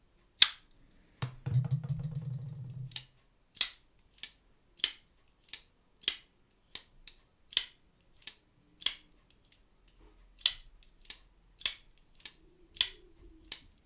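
Folding knife blade snapping open again and again, each opening a sharp click followed by a solid thud, about fifteen evenly spaced crisp snaps heard close and alone, with a brief low rumble near the start.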